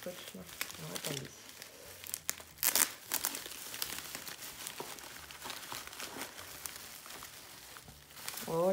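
Heavily taped paper wrapping on an advent calendar being torn and crumpled in irregular crinkling bursts up close, with someone speaking in between.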